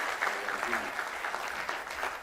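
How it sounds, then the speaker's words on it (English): Audience applause after a valedictory lecture: a steady wash of many hands clapping, fairly soft and slightly distant, holding evenly throughout. "let's give him another round of applause for the lecture"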